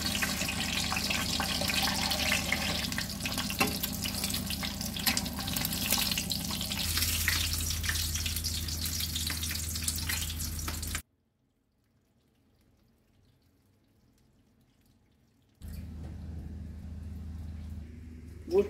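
Pigeon sizzles loudly in oil and ghee in a pan, a dense frying hiss that suddenly cuts to near silence and then returns.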